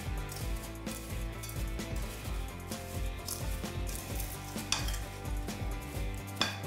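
Apples being stirred with sugar and cinnamon in a bowl, a steady run of soft scraping and clinking from the utensil against the bowl, with no talk.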